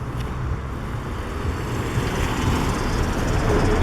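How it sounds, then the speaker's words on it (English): Car driving past on a Moscow street, a steady, loud broadband road roar close by, swelling slightly toward the end with no talk over it. "Car coming. Another car coming."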